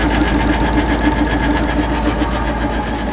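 PTO hydraulic pump running on a 1967 Ford F600 dump truck gives a loud, steady mechanical drone with a fast regular pulsing hum, close and continuous.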